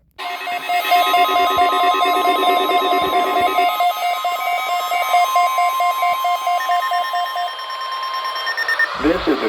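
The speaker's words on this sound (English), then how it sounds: "This is a test of the National Weather Service NOAA Weather Radio Warning Alarm System" A NOAA Weather Radio warning alarm blares as a loud, steady electronic tone with a pulsing, warbling edge for several seconds before it cuts off abruptly.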